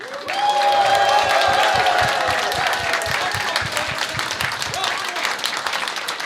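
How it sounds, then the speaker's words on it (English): Crowd applause and cheering for the Australian team at a robot combat event, a dense wash of clapping that swells at the start and holds steady, with a bright tone ringing through early on. "Can we give a big round of applause to the Australian team as well?"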